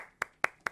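In a classroom lecture on spiritism, hands clap three times, sharp and evenly spaced. The claps sound sparse and fairly quiet, with no voices.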